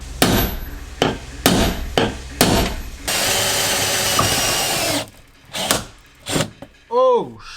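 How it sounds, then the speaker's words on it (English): A power drill fitted with a new bit bores into wood, with sharp knocking bursts followed by a sustained loud grinding cut, then a few more jolts and a brief squeal as the bit catches. "Now I've got that new drill bit, it should make a much cleaner cut."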